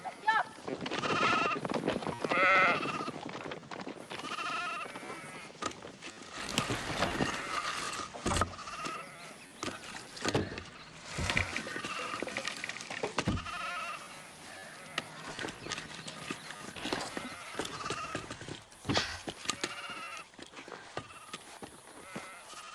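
Sheep bleat repeatedly, several animals calling near and far over a noisy outdoor background, with scattered voices.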